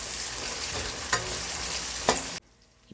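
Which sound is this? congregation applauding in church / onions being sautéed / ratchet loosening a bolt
onions being sautéed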